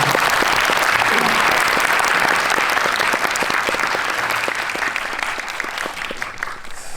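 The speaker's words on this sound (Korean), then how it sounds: "큰 박수 한번 보내주실까요?" Audience at a film screening talk applauding, a full, loud burst of many clapping hands that holds steady and then gradually thins and fades toward the end.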